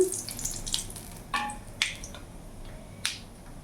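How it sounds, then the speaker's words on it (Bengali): Panch phoron, dried red chilies and two bay leaves tempering in hot oil, a few sharp crackling pops over a faint low sizzle, close and without talk. "ওই তেলের মধ্যে এখানে পাঁচ ফোড়ন আর শুকনো লঙ্কা ফোড়নে দিয়ে দিলাম সাথে দুটো তেজপাতাও দিয়ে দিলাম"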